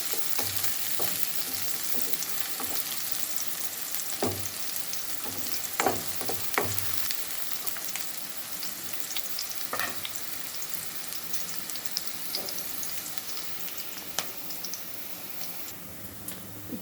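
Egg rice with onions frying in a pan, a continuous sizzle broken by repeated clicks and scrapes of a spatula as it is stirred, close and moderately loud.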